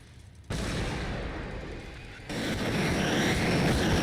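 Grenade blasts in the video game Warhammer 40K Battlesector, a loud burst that cuts in abruptly, holds a broad rumbling roar, then a second explosion layers on even louder, with no voices.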